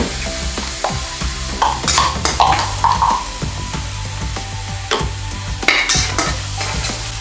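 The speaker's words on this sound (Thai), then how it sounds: "ตอนนี้ตักข้าวลงแล้วครับเจฟเก้นตักข้าวลงไปแล้วซึ่งผมก็พอจะเดาเมนูได้นะครับว่าเป็นข้าวผัด" Fried rice being stir-fried in a pan, with continuous sizzling and rhythmic scraping and clanking of a spatula against the metal, close and steady, while someone speaks over it.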